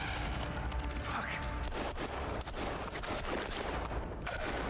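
Gunfire in the horror video game Hell Is Us, a dense burst of shots and booms over a rumbling game soundtrack, with a player's voice talking faintly beneath.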